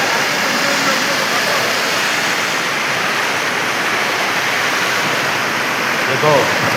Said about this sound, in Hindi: आप यहाँ की नदी देख सकते हो।